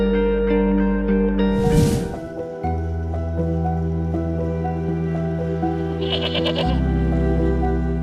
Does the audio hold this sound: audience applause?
no